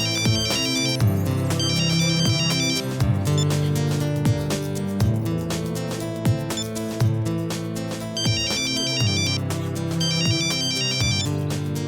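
A mobile phone ringtone plays after a call is placed, a repeating electronic melody with bright chiming notes that cycles steadily and loudly through the whole stretch, with no talking over it.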